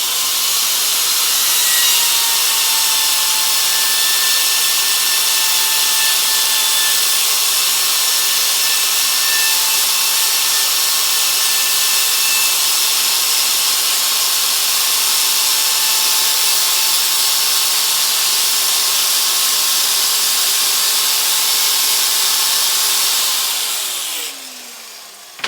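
An angle grinder converted into a spindle grinder sands and shapes wood with 240-grit abrasive, a loud, steady whirring grind with a motor whine that runs continuously for about twenty-five seconds before cutting off at the end.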